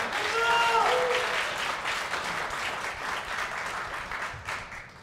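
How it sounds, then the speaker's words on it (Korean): Audience applause at a political rally in Daegu, a dense sustained ovation with a few voices shouting over it at the start, loud and steady throughout before easing slightly at the end. "이 말씀에 동의하시면 큰 박수 부탁드립니다."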